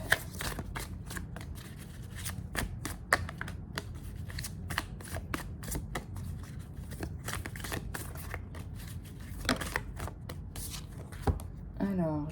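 Tarot cards being shuffled by hand, a continuous run of soft riffling and slapping flicks that keeps going for the whole stretch, close up, with someone talking quietly alongside.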